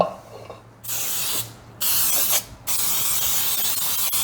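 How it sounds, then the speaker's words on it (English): Cooking spray hisses into a cake pan in three short bursts close by, the last one held longer, with brief pauses between them. "I'm going to spray my pan"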